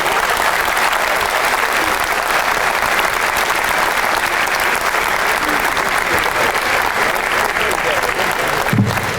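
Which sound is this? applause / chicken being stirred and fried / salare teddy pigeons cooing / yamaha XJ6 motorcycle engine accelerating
applause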